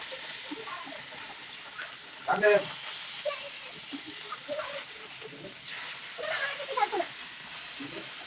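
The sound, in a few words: frying pointed gourd with rohu fish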